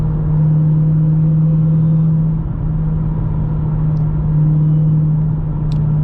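An 888 hp Dodge Hellcat XR widebody engine at full throttle in fourth gear, a loud, steady, deep droning roar heard from inside the car, with no talking.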